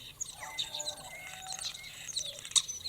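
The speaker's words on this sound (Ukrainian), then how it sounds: "Це пташка шпак." Starling calling in the open: a continuous run of high, varied chirps, whistles and clicks with a louder note near the end, fairly close, with no talk over it.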